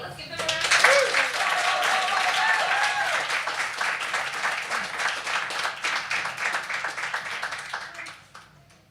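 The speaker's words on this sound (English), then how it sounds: "Let's give them a round of applause." An audience applauding as the performers are introduced: a dense burst of clapping swells, holds strong, then thins and fades near the end, with some voices and a faint tone mixed in.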